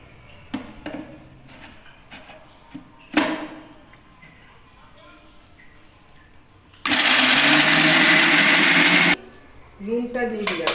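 Kitchen blender grinding soaked potato dosa batter with a little water, a loud steady whir running about two seconds after scattered clatter and clinks, with a voice speaking nearby before and after.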